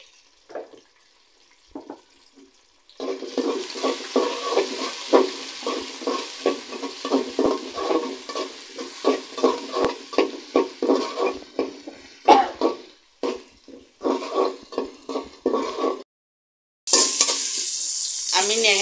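Chopped onion and ginger hit hot oil in a pan for beef trotter nihari, a loud steady sizzle broken by rhythmic scraping strokes of a spatula, with a burst of louder frying near the end.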